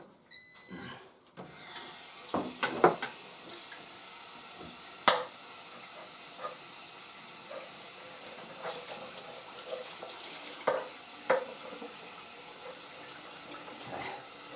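Water running from a tap in a steady hissing stream, starting after a brief handling noise, with occasional clinks and splashes of something being rinsed under it.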